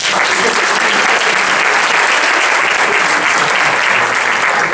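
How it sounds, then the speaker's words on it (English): Sustained audience applause fills the whole stretch at a ceremony where family members are being introduced, a dense, steady wash of clapping from a crowd with no voice rising above it. "You might not want to clap after each one."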